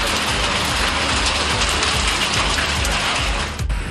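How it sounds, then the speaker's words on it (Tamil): Heavy rain falling with wind across the Sivakasi area of Virudhunagar district, a dense steady roar of downpour close to the microphone, with no voices. "விருதுநகர் மாவட்டம் சிவகாசி சுற்றுவட்டார பகுதிகளில் காற்றுடன் மழை பெய்தது"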